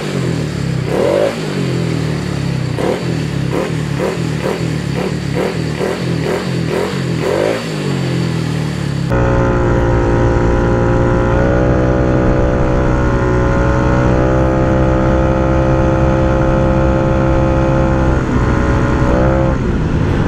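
A refreshed Yamaha Mio i 125 scooter engine, bored to 160cc with CRP cams, idles with a steady pulsing beat for about nine seconds before loud music takes over.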